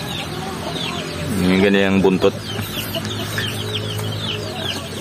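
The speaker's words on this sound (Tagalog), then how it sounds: "Ito yung ating mga inahin mga kabukid." Native hens cluck nearby in short, repeated bursts, with a person speaking briefly over them.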